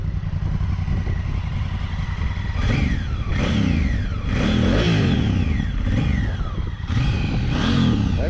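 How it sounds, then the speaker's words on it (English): Honda Africa Twin 1000cc fuel-injected motorcycle engine idling then revved several times, sharp rising and falling throttle blips over a steady close rumble. "I just hopped on this thing and revved the throttle and it is peppy."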